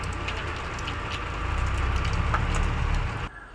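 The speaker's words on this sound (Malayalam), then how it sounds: "നല്ല സൂപ്പർ മഴ." Heavy rain pouring steadily outdoors, a dense, even hiss that swells slightly before cutting off abruptly near the end.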